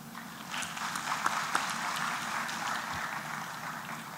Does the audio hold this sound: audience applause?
yes